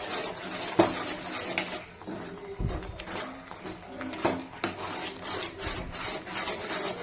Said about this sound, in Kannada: ಸ್ಟವ್ ಗ್ಯಾಸ್ ಆಫ್ ಮಾಡಿಬಿಟ್ಟು ಚೆನ್ನಾಗಿ ಮಿಕ್ಸ್ ಮಾಡೋಣ